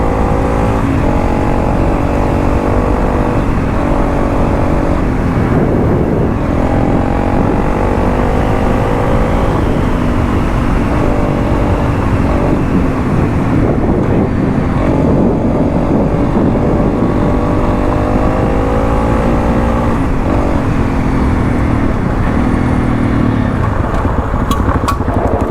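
A motorcycle rides along a street at steady low speed, its engine droning continuously under heavy, loud wind rush, with slight shifts in engine pitch and no pauses.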